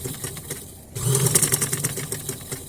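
A sewing machine stitching the neckline of a velvet shirt: after a quiet pause, a rapid, rhythmic mechanical whir starts and runs steadily close by.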